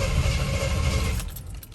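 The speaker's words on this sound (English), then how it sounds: "All right, it just started. And it just died." A flooded Ford Mustang engine runs with a loud, rough roar, then fades and dies out within about a second and a half.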